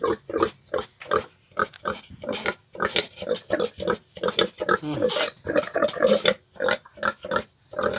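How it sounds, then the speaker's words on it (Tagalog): A pig grunting and snorting close by on a farm in rapid, repeated bursts, steady rhythm of short grunts throughout. "Ito yung baboy namin guys."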